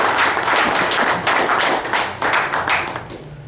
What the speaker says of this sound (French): main d'applaudissement pour tous les joueurs qui nous ont soutenus cette année